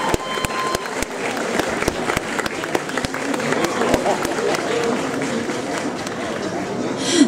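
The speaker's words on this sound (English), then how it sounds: "give a big round of applause while we wait to get securely up" Applause from a convention audience at a cosplay craftsmanship competition, a steady wash of clapping and crowd chatter with sharp knocks or footsteps punctuating it, plus voices talking throughout.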